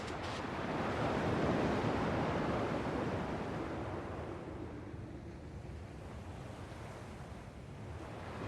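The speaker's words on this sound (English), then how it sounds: "At least the waves sound the same." Ocean surf rolls and washes steadily in Kingdom Hearts II, a broad continuous roar of breaking waves that swells early and then settles into a softer, even wash, with no voices.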